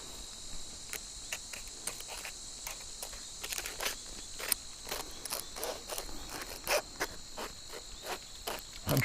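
Fly fishing reel drag on a tiny remote stream, giving off a run of quick, irregular mechanical clicks that speed up and bunch together, set against a steady high insect-like hiss outdoors.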